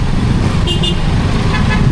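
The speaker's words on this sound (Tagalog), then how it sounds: "traffic ngayon guys" Dense road traffic heard from a Yamaha Sniper 155R motorcycle in Cavite on a morning ride, a steady low rumble of engines with two short car horn toots standing out in the middle of the clip.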